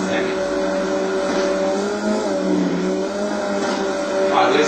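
Motocross bike engines racing at Kittery in MX vs ATV Untamed, a continuous buzzing whine that rises and falls in pitch, loud and steady throughout.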